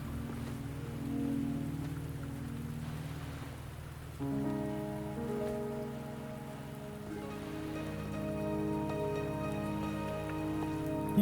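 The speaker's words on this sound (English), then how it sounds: "It is raining" Steady rain pours onto a beach in Wuthering Waves, a constant even hiss of falling drops on sand and water, with soft game music rising beneath it and no talking.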